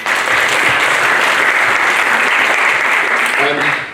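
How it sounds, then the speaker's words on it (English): Close, loud applause from an audience at a Somerset College music event, a dense continuous wash of clapping that holds steady for about four seconds, with faint voices mixed in near the end. "that probably deserves a round of applause"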